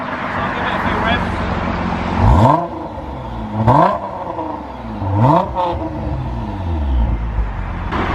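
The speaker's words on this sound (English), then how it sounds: "So I'll give it a few revs." Nissan GT-R R35 fitted with an Armytrix valvetronic exhaust, valves closed, heard from near the back as it is revved three times in succession. Each rev is a rising and falling engine surge over a steady idle, and people talk in between.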